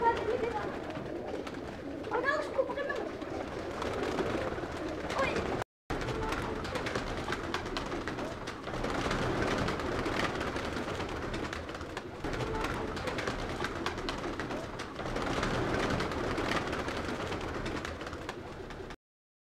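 High flying pigeons cooing steadily at a loft, their soft repeated calls continuous and close, with a person talking over them much of the time and a brief break in the sound partway through.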